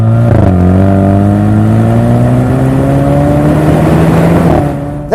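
A Jaguar F-Type with a 2.0-litre turbo four-cylinder engine revs up in one long steady pull, its loud buzzy drone climbing in pitch for about four seconds before easing off, with no talk.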